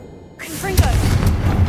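A Confringo blast spell erupts in Hogwarts Legacy, a sudden loud fiery boom after near silence, followed by crackling, rumbling aftermath and a few quick chirping effects.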